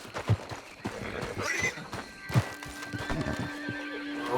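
Horses in Red Dead Redemption 2 neigh and whinny with clip-clopping hooves, two sharp neighs standing out over restless movement, fairly close.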